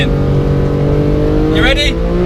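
A Porsche race car engine drones loudly on the Yas Marina circuit, a steady high-revving tone heard from the cabin, with a brief voice rising over it near the end.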